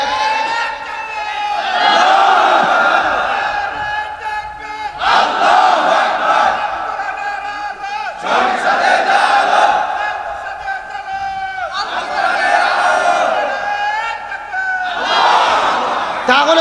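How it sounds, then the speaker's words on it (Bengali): A large crowd at a Jamaat-e-Islami programme chants a slogan in loud, rhythmic unison bursts, each shout lasting a second or two and repeating about every three seconds with short pauses between. "মাঝখান থেকে একজন স্লোগান দেন দেখি"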